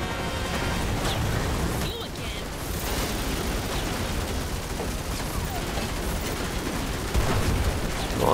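Sustained heavy big-gun fire in The Matrix Awakens on PS5, a dense, unbroken roaring barrage with crashing impacts held continuously for the whole stretch, loud throughout with a brief dip partway.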